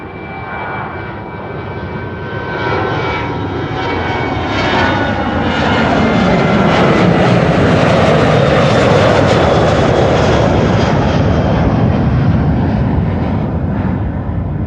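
KLM Boeing 737 departing Amsterdam Schiphol for Milan, jet engines swelling into a loud roar that builds and holds as the aircraft passes close, with no talking.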